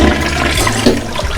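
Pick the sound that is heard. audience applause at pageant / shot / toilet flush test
toilet flush test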